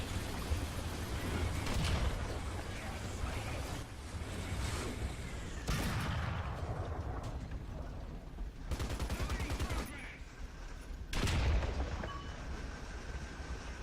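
Tank cannon shots in the War Thunder video game against an AI tank: a few heavy booming blasts spaced seconds apart over a constant rumbling engine and battle noise, with someone talking over it.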